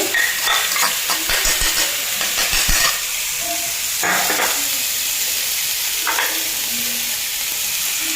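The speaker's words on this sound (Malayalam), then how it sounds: "പിന്നെ നമുക്കിതൊന്ന് ഇളക്കി കൊടുക്കാം" A chicken sandwich filling with chopped carrots and cabbage is stirred in a hot pan, making a steady close sizzle and hiss with scraping spatula strokes that are busier at first and then sparser.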